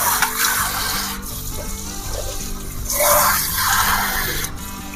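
Water is poured into a cooking pot while dalma with sajana saga, muga dal and janhi is prepared. A loud, close splashing gush runs steadily for several seconds with no talk over it.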